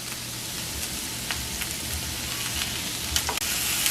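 Sofrito frying in a pan while preparing nachos, a dense, steady crackling sizzle close up, with a few faint clicks and a brief dip near the end, and no talking.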